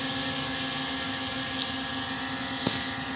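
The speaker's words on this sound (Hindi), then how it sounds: "काफ़ी देर से जो हमारा जो ड्रोन है इसी पोजीशन को होल्ड करके बैठा पड़ा है" A P18 Pro drone with brushless motors hovers in one spot, its propellers giving a steady, even buzzing whine with a constant tone, close and continuous without talk.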